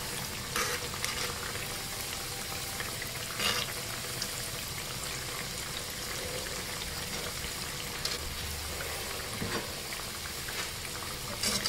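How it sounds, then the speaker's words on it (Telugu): Rava appalu, jaggery and semolina cakes, frying in hot oil, giving a steady, dense sizzle throughout with a few soft clicks and knocks from turning them, no voices. "ఇట్లా రెండు వైపులా కూడా ఎర్రగా వేయించేసుకోవాలి."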